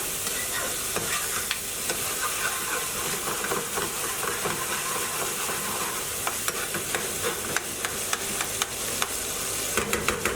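Curry with tomato paste fries in a pan, a steady loud sizzle with hiss and steam. Scraping spoon strokes stir through it without pause, and no one speaks.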